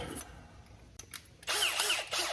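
A small power drill with a little bit whirs loudly for about a second near the end, during a 1935 Ford rat rod camper build, after a few brief mechanical clicks and quieter rustling.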